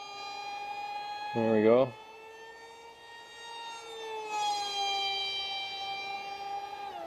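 The electric motor of an RC boat fitted with a Brother Hobby SS motor spinning a 6x3 prop on 3S power whines at a high, steady pitch through a high-speed turn, with its tone rising and shifting; a voice speaks briefly.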